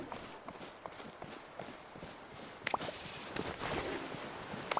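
Soft, faint clip-clop of a horse's hooves in the video game Disney Dreamlight Valley, a steady trotting rhythm heard at low volume.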